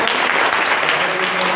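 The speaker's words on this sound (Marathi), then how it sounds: "आपण जोरदार टाळ्या वाजवून" Audience at a Marathi devotional gathering in a temple breaking into loud sustained applause, a dense wash of clapping from many hands heard up close.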